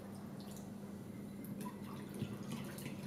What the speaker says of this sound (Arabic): الان كنديرو الماء كيف ما سبق لي قلت لكم 300 مليلتر على هذا الشكل.